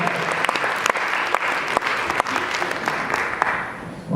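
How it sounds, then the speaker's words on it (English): Audience at a college convocation breaks into steady applause, a broad wash of many hands clapping with a few sharper individual claps standing out, continuing evenly for about four seconds. "Give her a round of applause."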